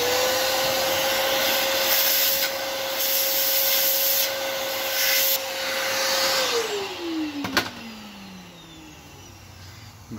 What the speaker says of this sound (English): And what I've got here is a vacuum cleaner. So you're just going to want to turn that on and suck out the rest of the bits.